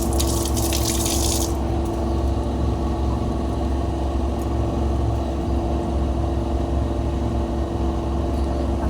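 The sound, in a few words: water washing hilsa fish in a basin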